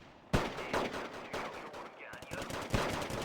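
Rapid bursts of gunfire ring out in a strategy video game, loud sharp shots in quick repeated volleys that blend into a dense, continuous rattle, with a player's voice briefly over it.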